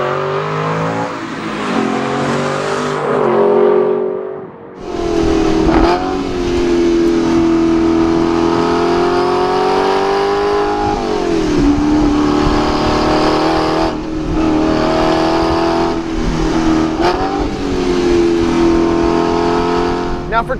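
A 2012 Aston Martin V8 Vantage engine revs loud and close, swelling and falling through repeated throttle blips after a brief dip, with a steady rumbling drone in between and no talk.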